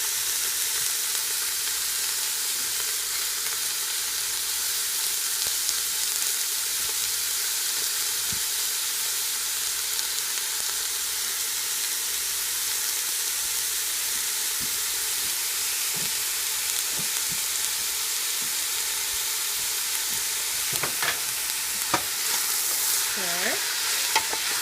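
Vegetables including onion fry in a hot pan for chimichangas, giving a steady loud sizzle and hiss throughout, with occasional stirring scrapes and a brief spoken word near the end.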